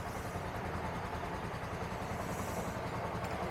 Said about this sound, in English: Very smooth engine.